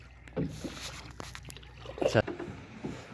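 Oars splash and dip into shallow sea water from a small fishing boat in a few uneven strokes, with faint wind and murmuring voices in the background.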